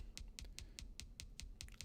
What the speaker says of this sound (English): Oh, you got a new keyboard? Is it a mechanical one?